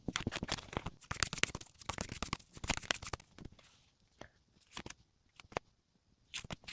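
Tarot cards being shuffled and drawn by hand, giving a run of dense papery riffles and flicks for about three seconds, then sparser separate snaps and slides of single cards, close and fairly quiet, with no talking.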